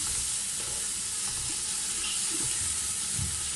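Spices and a few spoonfuls of yogurt fry in a pot for degi chana pulao, giving a loud, steady, hissing sizzle that holds without a break.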